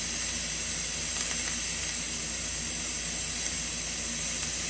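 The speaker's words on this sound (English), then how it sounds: "That air is coming out of there, baby" Air hisses steadily out of a car tire through the open valve, a loud, continuous rushing that holds unchanged from start to finish with no voices.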